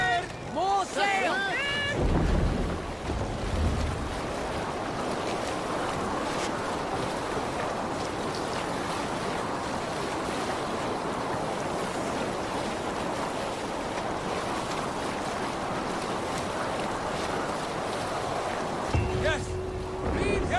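Sailing ship cutting through waves in the Viking-era video game Assassin's Creed Valhalla, a steady rush of surf and wind across the whole stretch, with voices shouting near the start and a low tone at the end.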